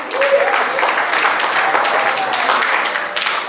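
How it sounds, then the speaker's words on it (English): A crowd at a corporate kickoff event in Toronto gives Armand a full round of applause, steady and loud, with faint voices briefly audible under the clapping. "Big round of applause for Armand,"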